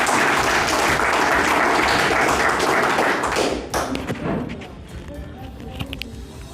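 Loud, dense applause from a school audience at a Prakram Diwas 2023 event welcoming a student from Kumharpur, Madhepura, steady for about three and a half seconds before breaking off into scattered claps, taps and faint room noise.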